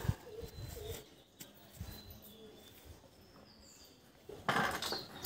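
Collected pigeons from the Mogra market coo softly and fairly distantly, mixed with faint clinking and handling noises, before a louder rustle at the end.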